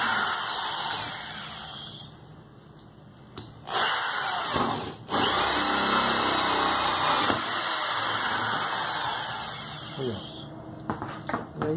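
A power drill bores a hole through a bamboo pole for a homemade photo tripod, whining in loud sustained bursts with short pauses between them, close by, with a person talking.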